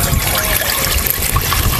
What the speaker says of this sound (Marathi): आता आपण चुलीवरती आहे ना मोठं एक पातेलं ठेवूया आणि ह्यामध्ये आपण घालूया पाणी